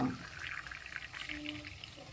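Soft, steady pouring of hot water being strained, a quiet continuous trickle with no talking.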